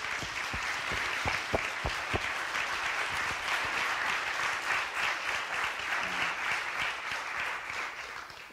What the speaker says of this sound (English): I'd love another round of applause for all of our young people in the audience today